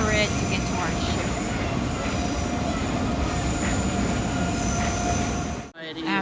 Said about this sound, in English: there's a train headed into the station